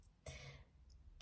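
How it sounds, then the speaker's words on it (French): A single short, faint cough, a quick harsh burst followed by a slight second catch in the throat, in an otherwise quiet room. "Encore une nouvelle fois, pardon pour"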